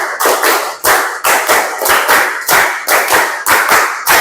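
A group of students claps together in a counted rhythmic pattern during a classroom activity, loud sharp synchronized bursts arriving in regular clusters with brief gaps between them.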